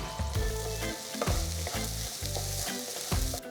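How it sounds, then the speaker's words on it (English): Ginger garlic paste sautéing in a hot pan for paneer bhurji, a steady close sizzle and frying hiss with repeated scraping stirs in a regular rhythm. "Saute for about 2 minutes for the raw smell to go."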